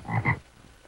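A frog gives two short, deep croaks in quick succession, close and moderately loud, then fades into faint background noise.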